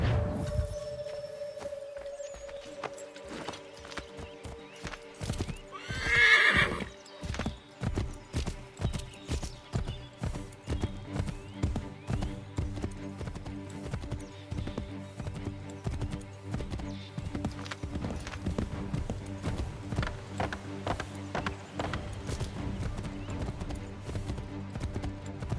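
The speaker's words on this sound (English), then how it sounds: "Take my horse!" A horse in Assassin's Creed III gallops with rapid rhythmic hoofbeats over a steady musical drone, a sharp whinny rising briefly early on before the hooves continue at an even pace.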